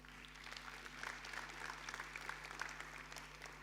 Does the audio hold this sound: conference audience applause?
yes